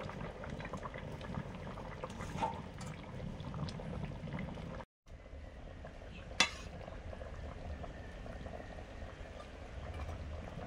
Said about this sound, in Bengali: ঝোল ফুটে গেছে, মাছগুলো দিয়ে দিচ্ছি, সঙ্গে মাছের ডিমটাও।